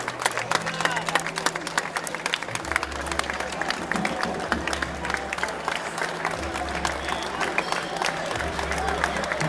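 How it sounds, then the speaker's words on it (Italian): A crowd in a town piazza applauding athletes on their lap of honour at the Oria Athletis Signum event, a continuous dense patter of clapping with a low hum and voices underneath. "Applauso che sia ininterrotto al loro passaggio."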